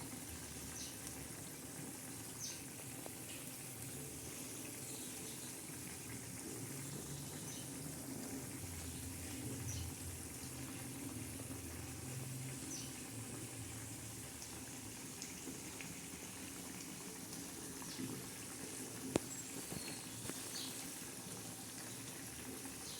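A pan of brinjal curry cooked with dried Bombay duck bubbles and sizzles quietly, a faint, continuous simmering hiss with tiny pops and one brief sharper click near the end.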